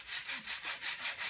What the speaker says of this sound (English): I'm putting the finishing touches on the sanding